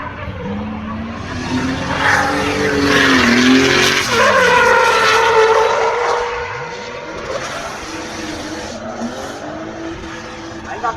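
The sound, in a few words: car drifting on the Nurburgring, 3 liter engine, tires skidding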